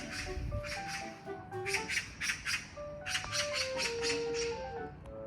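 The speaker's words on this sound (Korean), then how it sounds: "까치가 되게 요란하게 소리 낸다" A magpie gives loud, harsh chattering squawks in rapid bursts, pausing briefly between runs, with a faint whistle-like tone underneath.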